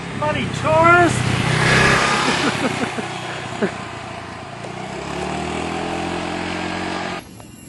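Small motor scooter engines, including a Honda, drone and rev steadily nearby on back roads in Chiang Rai, Thailand, with voices talking briefly over the engine noise at the start.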